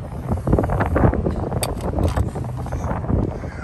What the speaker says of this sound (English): Because it's windy enough out here